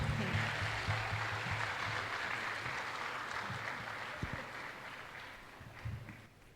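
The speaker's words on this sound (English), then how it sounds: "Can we have another huge round of applause?" Audience applause at a retreat anniversary gathering after a song, a steady wash of clapping that slowly fades over several seconds with a few louder claps near the end.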